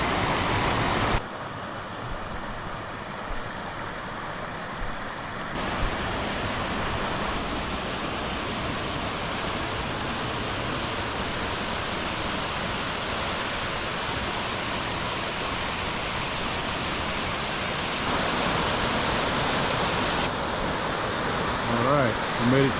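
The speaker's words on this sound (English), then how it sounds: "We made it to Dry Creek Falls." Dry Creek Falls waterfall rushing in a continuous loud, broadband roar close by, steady for the whole stretch with slight shifts in level.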